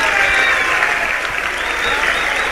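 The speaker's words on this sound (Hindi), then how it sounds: "तो अब जरा इनको बताओ ताली बजा के कि मारवाड़ क्या चीज होती है।" Audience applause fills a comedy poetry show, a dense, steady wash of clapping from a large crowd, loud and continuous with no voices above it.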